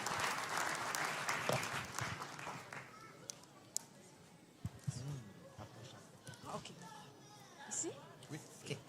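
A church congregation at a bilingual French and English service claps in praise of the Lord, with a dense burst of applause early that thins out and fades while a voice carries on over it.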